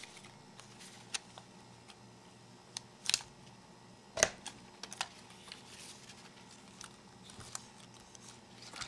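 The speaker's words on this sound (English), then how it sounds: "now I'm going to cut the leader on the diagonal also" Scissors snip 16mm film leader on the diagonal, a few crisp close cuts and small clicks scattered over quiet room tone, the two sharpest snips standing out near the middle.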